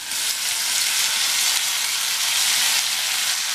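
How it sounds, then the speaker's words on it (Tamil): Two medium chopped tomatoes fry with sautéed onions in a pan for sambar, a steady, close hiss of sizzling with no talk. "இந்த தக்காளி வதங்கி வரட்டும்"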